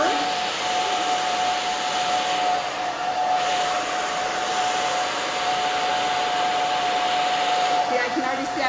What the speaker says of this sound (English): I'm starting to blow dry this over.